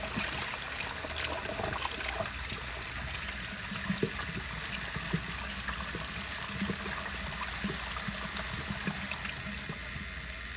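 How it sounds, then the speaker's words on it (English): Water rushes steadily and continuously through a fully functional 10-inch miniature Berlin toilet during a flush, a close, constant gushing wash with no pauses. "here is a flush"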